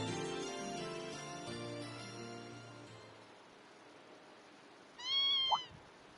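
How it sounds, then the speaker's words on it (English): A lone kitten in Trails of Cold Steel II lets out one short, clear meow near the end, after the game's background music fades away. "What's the kitten doing here?"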